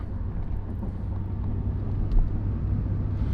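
A 2020 Ford F-150 XL STX pickup with a 5.0 V8 cruises at a steady 65 mph, heard from inside the cab as a constant low rumble and road drone with no voices.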